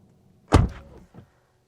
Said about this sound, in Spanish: El problema es el sonido que da la puerta cuando el cristal está bajado.